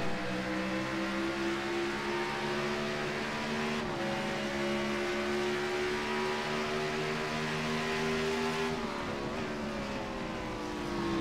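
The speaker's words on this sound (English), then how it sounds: "You can hear that car just downshift." Sim racing video game car on the Roval circuit, its engine a steady loud drone with harmonic tones that drop and shift in pitch as the car downshifts, continuous with no talk.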